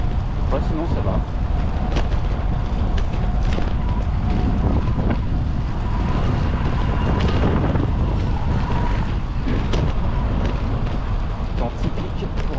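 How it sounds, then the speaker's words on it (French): Strong gusty crosswind in November buffeting the microphone with a deep continuous roar, close and loud, with faint French talking underneath. "Alors il y a pas mal de vent, donc c'est vent de côté."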